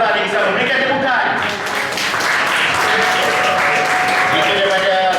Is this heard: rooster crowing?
no